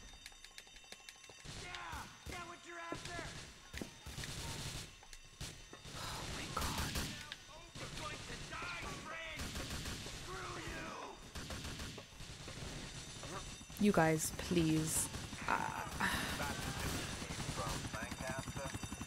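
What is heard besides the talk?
gunfire in the video game GTA IV: The Ballad of Gay Tony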